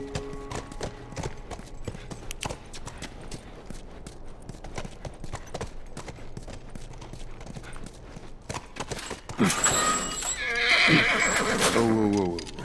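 Hooves clip-clop steadily on the ground before a horse lets out a loud, close whinny near the end, from The Last of Us Remastered video game.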